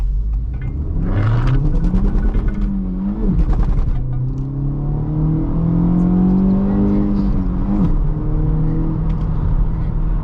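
Close cabin sound of a 2024 Honda Civic Type R with a 6-speed manual driving on the road, its engine droning and revving up and down with quick rev-matching blips between gears.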